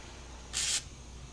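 A short spritz of WD-40 aerosol on a Stihl MS 391 chainsaw during clutch work, one brief hissing burst of about a quarter second over quiet room tone.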